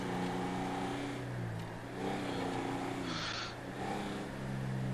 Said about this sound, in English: The turbo sounds like it's laughing.